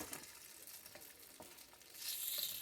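Oil hitting a hot cooking pan and frying, a soft crackling sizzle that steadies and then swells louder and brighter toward the end, with no talking.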